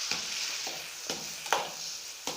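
Eggplant pieces stirred into tomatoes in a frying pan, a steady soft sizzle broken by a few scraping spoon strokes, close and alone.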